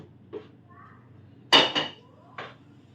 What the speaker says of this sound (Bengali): কড়াই তো ধোয়া হয়ে গেছে